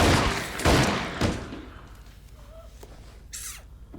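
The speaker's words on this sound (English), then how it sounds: "She shot to wound. He shot to kill." Gunshots from the TV series Lost, heard as playback: a couple of sharp, loud bursts in the first second or so, then fading into quieter background sound.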